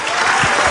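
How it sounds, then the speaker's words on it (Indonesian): A studio audience at an Indonesian comedy talk show bursts into brief, loud applause for a guest, a short dense burst of clapping with no speech over it. "Tepuk tangan buat Kevin"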